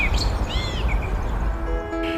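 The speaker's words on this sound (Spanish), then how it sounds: "¿qué te parece la música del canto de los pájaros?" Recorded birdsong played as music, with bright chirps and a few swooping whistled calls over a steady wash of background noise, moderately close and without talk.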